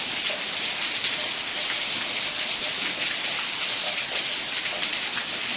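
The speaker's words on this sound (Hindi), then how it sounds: "लगातार 4 घंटे हो गए, लगातार बारिश हो रही है।" Heavy rain that has kept falling for hours pours steadily nearby, hard enough to flood water into the rooms. It makes a dense, even hiss with no break and no talk.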